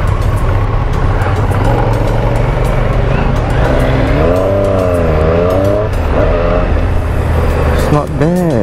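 Triumph Street Triple motorcycle engine pulling hard at low revs on a test ride, a loud continuous roar with rising and falling rev sweeps and wind noise, no talk.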